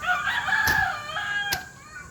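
A rooster crows once on a game farm, loud and nearby, with a brief sharp burst partway through, over steady outdoor background noise.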